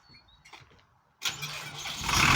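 A Japanese six-cylinder 80-horsepower tractor engine cranks and catches after a brief pause, then rises into a loud, rough rumble that grows stronger toward the end.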